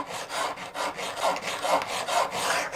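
A hand file rasps across the face of a card scraper blade in steady, even back-and-forth strokes, close and alone, roughly two or three strokes each second.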